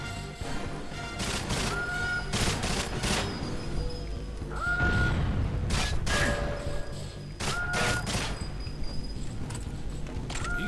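Rocket launcher fire in GoldenEye 007 on the Wii: several sharp blasts burst out at irregular intervals over a steady game soundscape with sustained musical tones.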